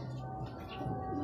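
Pigeons cooing in a loft, soft low coos over a busy background murmur of birds, brief and fairly faint.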